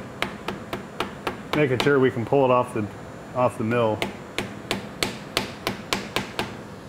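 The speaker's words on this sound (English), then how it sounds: "I've got a dowel pin here, 3/8, using a rubber mallet." A rubber mallet taps a 3/8 dowel pin into a mold on a mill in a steady series of sharp, evenly spaced knocks, with someone talking partway through.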